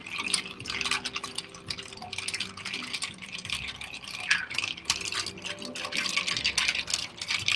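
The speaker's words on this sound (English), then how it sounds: "We're going to do about 30 seconds of stirring here." Ice rattling and clinking in a mixing glass as a port cocktail is stirred, a continuous, fairly quiet swirl of rapid light knocks.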